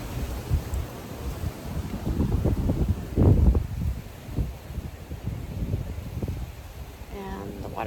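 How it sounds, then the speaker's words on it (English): Gusty wind during Hurricane Milton rushes and rumbles against the microphone in uneven bursts, with a stronger blast in the middle and a person talking faintly near the end. "A wind gust here and there."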